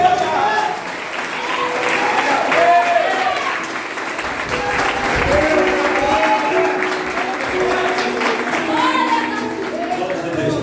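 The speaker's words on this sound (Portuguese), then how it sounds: "Você pode dar uma salva de palmas ao Senhor?" Congregation at a Christmas church service claps in a sustained round of applause, with voices and cheering mixed through the crowd for roughly ten seconds and a brief dip partway.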